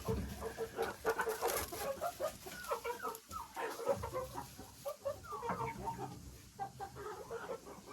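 Heavy-breed naked neck hens cluck continuously inside a coop fitted with nest boxes, several birds overlapping in a busy, steady chatter against a noisy background.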